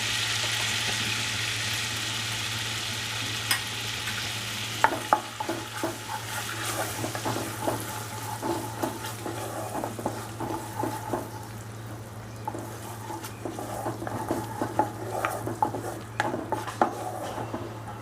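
Ginger garlic paste fries in a pan for a dhaba-style dish, a soft sizzle under repeated scrapes and clinks of a spoon stirring against the metal, close and steady with no talking.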